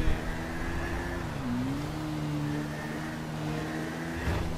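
A Suzuki Bandit motorcycle ridden in the video game GTA V hums with a steady engine drone that dips briefly in pitch and then holds even, with no talking over it.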